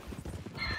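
A donkey in a video game brays and groans in pain, a short run of rhythmic strained braying calls close and moderately loud with no speech over it.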